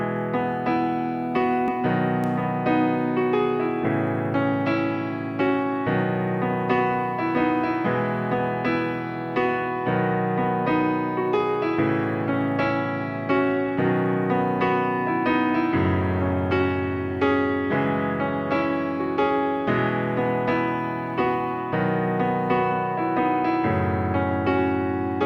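Solo piano plays the accompaniment chords of a song, steady block chords with a shifting bass line, close and clear with no talking.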